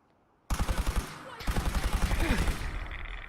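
Rapid automatic gunfire aimed at the player in Fallout 4, two long fast bursts of evenly spaced shots separated by a brief pause, loud and close, with a voice heard briefly amid the shooting.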